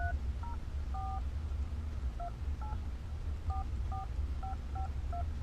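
A phone number is keyed in on the touchscreen keypad of a GMC Denali, sounding as about a dozen short, distinct DTMF dial tones in an irregular sequence over a low cabin hum.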